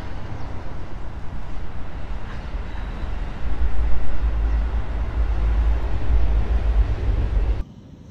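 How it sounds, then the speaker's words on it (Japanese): A steady low rumble of a passing train heard from a garden, loud and continuous, swelling midway and then cutting off abruptly near the end. "次は電車来たぞ。"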